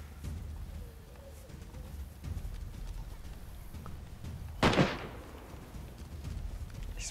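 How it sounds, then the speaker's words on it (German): A single loud gunshot bursts out close by in the DayZ video game, on a PlayStation 4 Pro on the Livonia map, standing out sharply against a steady low ambient rumble with faint background noise around it. "Ich spotte die Schüsse gerade."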